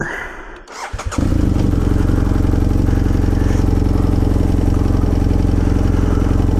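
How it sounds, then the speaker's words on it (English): A motorcycle engine cranks briefly and fires, then settles into a loud, steady idle close by, with no talking. "So let's hop on the bike and get going. Give it a quick start here."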